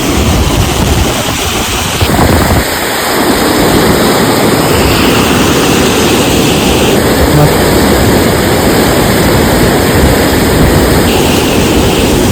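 Steady, loud rushing of floodwater after heavy rain fills the whole clip, a broad continuous roar of fast-flowing water, with no pauses.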